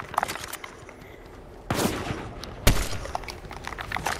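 Sniper rifle shots in Fortnite: two sharp, loud cracks about a second apart, with lighter gunfire and game noise around them.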